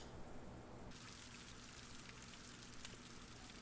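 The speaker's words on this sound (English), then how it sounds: "Yay, it's raining." Steady rain in American Truck Simulator patters on a surface, a soft hissing wash of drops that stays even and quiet throughout.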